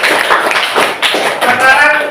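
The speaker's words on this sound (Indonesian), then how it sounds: "Beri tepuk tangan untuk Dimas." A brief burst of clapping from a small group, close and fairly loud, with quick overlapping taps that swell and fade over a couple of seconds.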